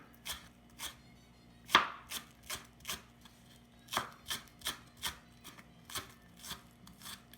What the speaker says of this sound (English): cut the onion first. You can just cut the onion thinly enough